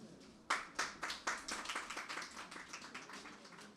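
Rhythmic clapping from a small audience welcoming the president at an Urdu mushaira poetry gathering in Karachi, beginning with distinct strong claps that blend into a quicker, fainter patter of many hands.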